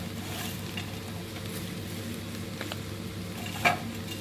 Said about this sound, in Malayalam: ഇപ്പോൾ നമ്മൾ എടുത്ത് വെച്ചിരിക്കുന്ന ഒനിയൻ ഫ്രൈ നമുക്ക് ആഡ് ചെയ്ത് കൊടുക്കാം.